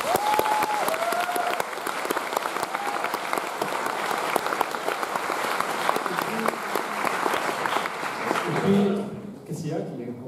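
A festival audience at a closing ceremony applauds in a long, dense, sustained wave of clapping, with some voices and whoops mixed in, before it thins out and fades near the end.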